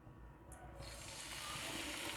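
Fish sauce poured into a pan over low heat for a sweet chili fish sauce, a short, close, splashing stream of liquid that starts abruptly and keeps flowing steadily.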